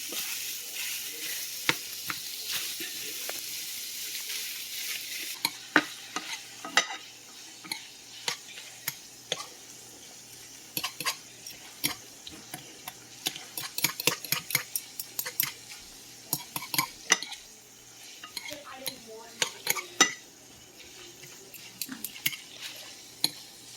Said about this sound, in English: Mash my sausage. So it's not a whole piece, it's not a big piece on your gravy.